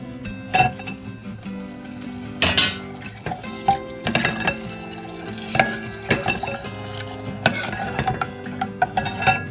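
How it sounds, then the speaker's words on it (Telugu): Multigrain-flour Tapeswaram kaja pastries clatter into hot jaggery syrup in a pan, with repeated sharp clinks and scrapes of a utensil stirring against metal in an uneven rhythm, close and fairly loud, no talking. "సో అది బెల్లం పాకంలో వేస్తున్నాను."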